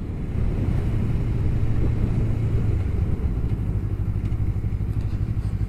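A 2021 Honda CBR250RR being ridden, its engine giving a steady low drone under heavy wind rush, loud and continuous throughout.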